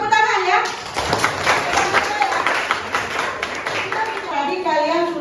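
A class claps hands together in a room, a quick spatter of clapping mixed with voices talking throughout.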